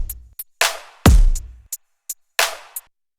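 Drum bus playback of a song's drums, with the 808s routed elsewhere: punchy kicks with a deep booming tail, crisp snares or claps and short ticking hi-hats in a sparse, tight rhythm, loud and dry with no voices.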